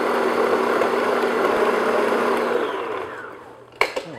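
An electric mixer beating a second egg into red velvet cake batter, a loud steady whirr that winds down near the end, followed by a couple of knocks as it stops.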